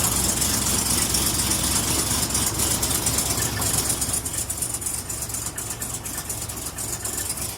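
A freshly started engine idles steadily right after firing, a loud, close, even rumble with a slight knock that eases a little toward the end, with no voices.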